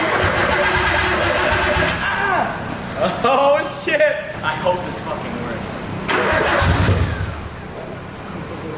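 A Nissan Skyline RB25DET turbo engine cranks and fires into a rough, rising rev, with excited voices talking and shouting loudly over the engine.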